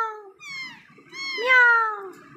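A person imitates a cat's meow with a run of drawn-out, rising and falling mews, near and fairly loud, with no other talk.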